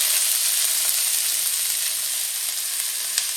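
Cabbage and green chili fry in hot oil, giving a loud, continuous close-up sizzle that crackles steadily throughout, with occasional faint stirring clicks and no talking.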